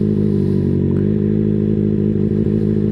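A motorcycle idling as the clutch slowly engages and the bike begins to pull forward, a loud, steady low engine drone with a faint clunk near the end, close and alone.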